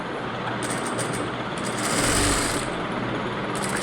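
A sewing machine stitches a blouse in a steady, fast mechanical drone that runs close and loud without pause, its motor hum swelling slightly midway.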